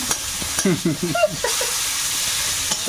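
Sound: bay leaf and chopped onion frying in oil

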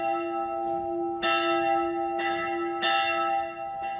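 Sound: church bell ringing

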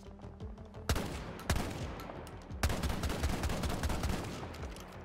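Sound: NVK S22 automatic shotgun firing in video game Battlefield 2042

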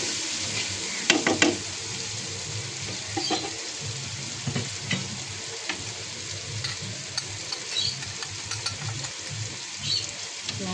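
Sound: onion, tomato and spices frying in a pan

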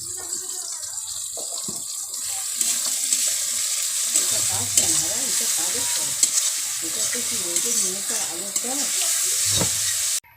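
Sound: garlic paste frying in a pan

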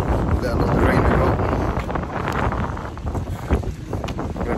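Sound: strong wind blowing at the Nurburgring

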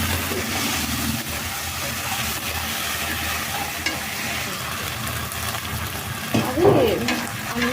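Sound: frying food in a pan

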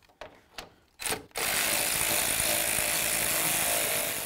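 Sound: removing headlight mounting bolts with a ratchet

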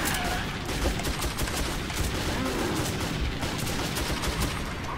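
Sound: gunfire in Metro 2033 video game

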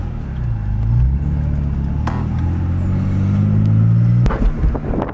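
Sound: BMW with BC coilovers, tire rubbing while driving

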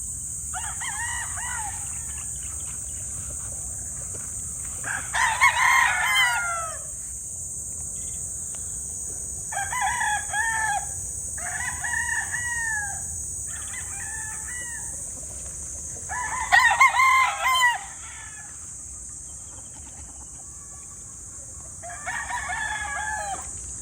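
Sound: gamefowl chickens, roosters crowing

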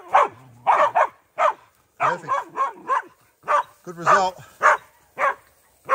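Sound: hunting dogs barking during a pig hunt

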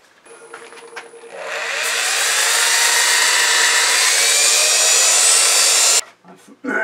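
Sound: sanding cherry wood bowl

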